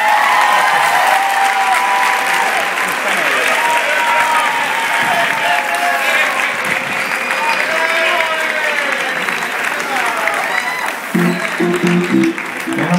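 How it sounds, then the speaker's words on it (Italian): An audience at an event in Pescara applauds loudly and continuously, steady dense clapping with a few shouts and a voice speaking over it toward the end. "io vi pregherei di salutare con un applauso"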